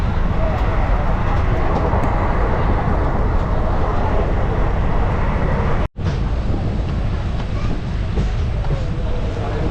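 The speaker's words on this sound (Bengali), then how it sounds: "পাক্কা 145 কিলোমিটার পার করে আমাদের ট্রেন চলে এলে কিন্তু কাঁথি" Train on the Digha route nearing Kanthi, heard from inside with doors shut against starting rain: a steady, loud rolling rumble and rattle that continues throughout, with a brief dropout just before the six-second mark.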